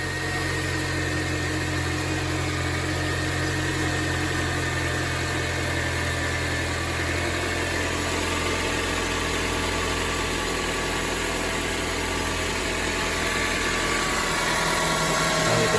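The engine of a 2006 Acura TSX with a newly replaced power steering pump idles steadily and close up, a continuous even hum with a faint whine throughout and no voices.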